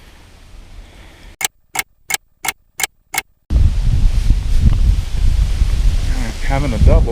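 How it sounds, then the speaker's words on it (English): Strong gusting wind buffets the microphone at an outdoor carp fishing spot, a loud continuous rumble after a short run of evenly spaced ticks, with faint background sounds. "All of a sudden there's like 20-mile-an-hour wind gusting."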